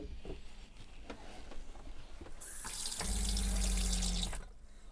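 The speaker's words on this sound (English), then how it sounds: "Let's check the faucet." Water running from a faucet in a camper van with a new under-sink filter, a steady close splashing stream that grows fuller, then cuts off near the end.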